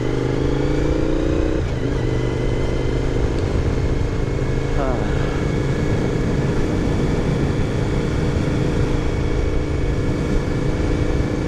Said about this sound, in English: I don't ever speed through here, especially not on this bike, because it is terribly loud